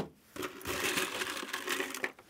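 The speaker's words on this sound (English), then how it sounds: "Ice the tin" Ice tumbling into a metal cocktail shaker tin while mixing a Loch Lomond cocktail with Drambuie, Cointreau and fresh lemon juice, a close, steady crunching rattle lasting about two seconds, with no talking.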